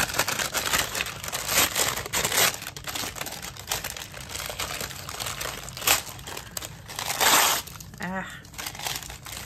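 Brown scrap paper is torn by hand for a junk journal, close up: rustling and crinkling build to a louder ripping burst near the end, then paper handling continues.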